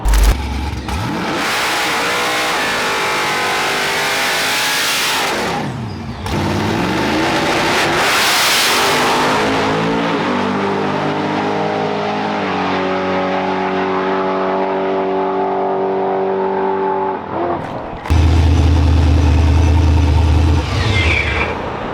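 A procharged COPO Camaro launches hard at full power down a drag strip, its engine roaring and revving loudly through long pulls with brief breaks between gears.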